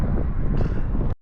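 Wind gusting across an open desert, a loud, steady roar buffeting the microphone for over a second before cutting off abruptly, with no one talking.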